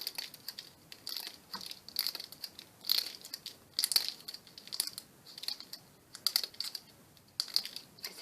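Crisp, irregular crunching and crackling of homemade art glass being broken in small bursts, close up and fairly quiet, with brief pauses between snaps.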